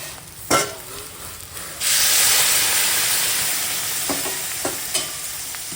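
Hot water poured into a pan of frying soya chunks for curry: a sudden loud rush of hissing steam and sizzle that holds steady, then eases, with a few spoon knocks and stirring clicks near the end.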